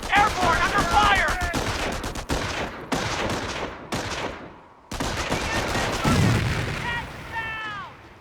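In Company of Heroes, machine-gun fire rattles in rapid volleys between heavy booming grenade blasts, loud and close, with abrupt cutoffs between bursts and voices calling out over the battle.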